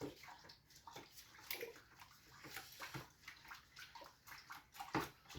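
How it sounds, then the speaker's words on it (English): Homemade hazy IPA kit liquid being stirred in a brewing fermenter, a soft, steady sloshing and swirling of liquid in repeated strokes, faint and close with no speech. "Right, give it a little stir."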